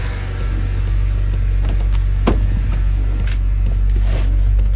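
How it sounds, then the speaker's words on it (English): A BMW with an N52 engine idles smoothly after repair, giving a steady low hum that holds constant and close throughout, with a faint brief tick partway through. "engine sounds really good and it's idling really smooth"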